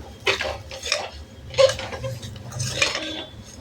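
Metal utensil scraping and clinking against a pot while roasted sanja (semolina) is stirred and sautéed for a one-pot meal, several distinct bursts of stirring in a quiet kitchen.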